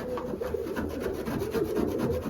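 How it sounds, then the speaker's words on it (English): Steady rasping scrape of droppings being cleared off wooden pigeon perches in a loft, a continuous rhythmic rubbing close by, with faint pigeon cooing underneath. "And you scrape the perches."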